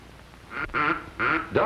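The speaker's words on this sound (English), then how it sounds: "Ducks are flying, but they're all too high." Duck calls during a duck hunt from a boat blind, three loud close quacks in a quick, uneven sequence.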